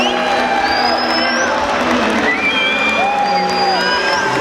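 A large crowd at a UFC open workout fills the air with steady cheering, whoops and shouts, loud and continuous, with individual voices rising above the roar.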